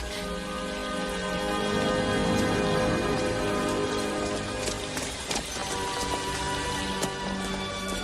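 Steady rain patters on a surface throughout, a constant dense hiss with scattered heavier drops and no voices.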